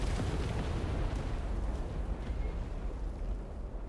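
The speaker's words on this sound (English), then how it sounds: "That was a big bomb." A big bomb explodes in a tank battle game, a heavy low boom that swells and rumbles on for several seconds, dense and sustained, slowly thinning toward the end.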